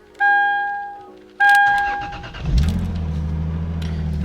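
A car's engine is started after two dash chimes: the starter cranks briefly, then the engine catches and settles into a steady, close idle, with no talking.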